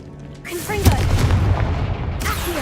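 The Confringo spell from Hogwarts Legacy lands as a sudden, loud booming blast that swells into a rumbling, crackling burst and lingers for about two seconds, close and forceful, with a voice briefly present.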